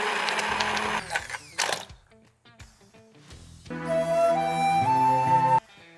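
Carrots and sauce whizzing in a blender, a loud motor whir lasting nearly two seconds at the start, then stopping, with music continuing afterward.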